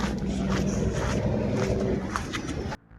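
Boat manoeuvring in reverse into its mooring at the coast near Kanyakumari, a continuous engine and water wash with wind buffeting the microphone, fairly close, cutting off abruptly near the end.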